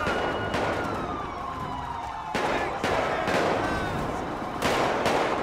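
Gunfire in GTA 5 with the LSPDFR police mod: a few sharp broadband shots cracking out at intervals over a steady background of siren wail and game noise.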